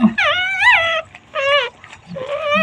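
Newborn puppy whimpering in a series of high, wavering whines, three close bursts separated by brief pauses, loud and alone.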